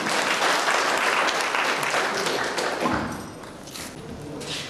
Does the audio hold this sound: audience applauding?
yes